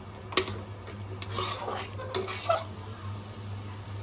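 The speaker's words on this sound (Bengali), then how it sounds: "নাড়াচাড়া করে নেব" A utensil scrapes and clinks against a pan while hilsa fish curry is stirred, several quiet scraping strokes over a low steady hum.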